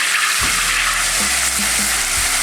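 Semolina roasting in melted oil in a pan for Turkish cheese halva gives a steady soft sizzle with faint stirring scrapes, close and continuous.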